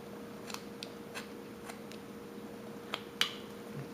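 A knife carving a small wooden figure of a papoose makes faint, sparse clicks and snicks, a handful of short cuts spread out over a quiet background hum.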